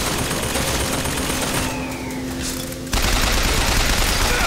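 Sustained machine gun fire in Bioshock Infinite, a dense continuous rattle of rapid shots that runs the whole time with game ambience mixed in, growing louder toward the end.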